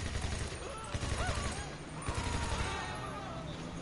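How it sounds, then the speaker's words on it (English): Gunfire in the video game GTA 5, rapid crackling shots blended into a dense, noisy game soundscape with music-like tones and a voice talking over parts of it. "Because you're shooting a gun."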